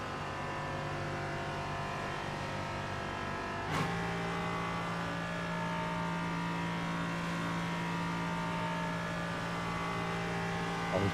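A race car engine in the iRacing sim holds a steady high drone, then cuts sharply at an upshift and settles into a lower, even tone, loud and alone with no talk.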